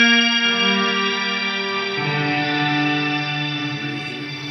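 Ambient pedalboard reverb with the mix turned fully up, a dense sustained wash of layered tones swelling and shifting pitch, loud and steady with no voices.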